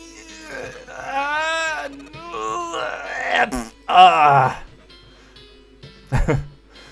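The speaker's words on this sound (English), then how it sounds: "Then the grunting ceased, and they could hear a light panting from exertion." Strained grunting and groaning from a character behind a door in the video game Zero Escape: 999, coming in several effortful bursts with pauses between, moderately loud and muffled.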